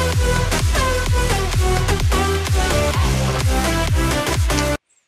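A fully mixed final version of an electronic music track plays loud with a tight, driving beat, heavy low end and bright synth leads, then cuts abruptly to silence near the end.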